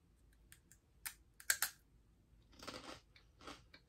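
Crunchy Japanese shrimp snack, hard on the outside, bitten and chewed close up in a few sharp crisp crunches followed by softer rhythmic chewing, with no talking.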